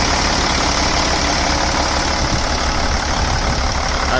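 A Freightliner Century truck's engine idling steadily, a loud, close, continuous low rumble with an even texture and no talking over it.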